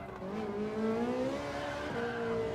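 A race car in Gran Turismo 7 at the Nürburgring Nordschleife revs hard as it brakes late into a corner, its engine pitch dropping then climbing again, with a brief tire squeal over steady loud engine drone.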